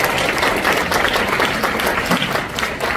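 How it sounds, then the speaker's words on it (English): An audience at a health seminar in Singapore gives a warm round of applause for a featured doctor, a full, even wash of many hands clapping throughout, with no voices over it. "let's give a round of applause to Dr."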